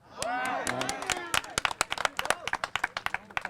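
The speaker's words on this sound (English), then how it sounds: "On the street, if you agree, you can clap." A street crowd at a rally for striking SEIU healthcare workers breaks into scattered clapping after a short burst of a speaker's voice, with the claps loud, close and uneven.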